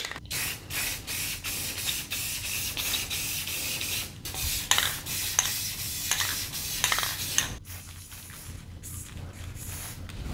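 An aerosol can sprays black paint in repeated short bursts and longer hisses, close and fairly steady, with light clattering and rubbing between passes and no talk.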